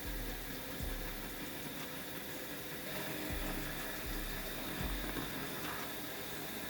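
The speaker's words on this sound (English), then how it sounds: "It is louder due to the gears slipping and grinding." A tiny motor driving a 3D-printed gearbox with slipping, grinding gears, giving a steady whining hum with low clunks recurring roughly every second.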